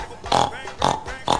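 A person imitates a pig with three quick nasal oinking grunts, close and fairly loud.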